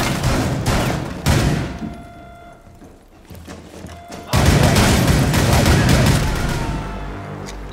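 Bursts of rapid gunfire and explosive booms ring out in Rainbow Six Siege on the Chalet map, loud and dense, with a quieter lull partway through before a heavy volley resumes.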